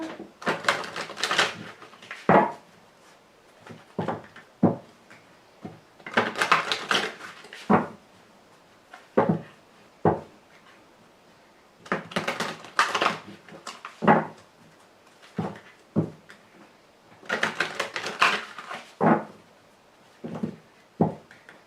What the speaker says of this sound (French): Donc je tire 5 cartes.